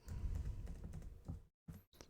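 Someone types quickly on a computer keyboard, close up, entering Python code. Dense, loud key clatter runs for over a second, then a brief silence is followed by two final keystrokes.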